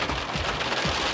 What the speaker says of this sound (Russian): Ух ты, вот это дождик.